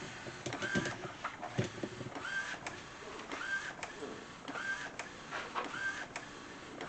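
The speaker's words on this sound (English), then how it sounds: "let's go ahead and let it finish printing" An Epson XP-15000 printer prints direct-to-film with a rear film feed, its print head shuttling back and forth in a rhythmic repeating whir, with a brief rising tone on each pass.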